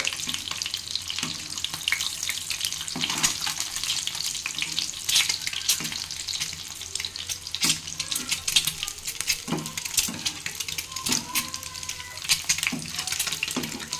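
Eggs fry in a pan with a steady, crackling sizzle and frequent sharp pops and spatters, the cooking sound close and unbroken throughout with no talking.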